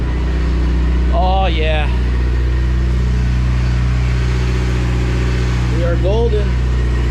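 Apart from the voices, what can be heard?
Mitsubishi Evo X MR engine running on first start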